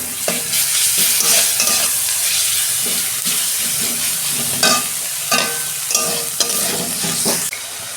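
Onions frying in hot oil with a spoonful of ginger-garlic paste, sizzling steadily while a spatula stirs and scrapes the pan in repeated close strokes, no talking.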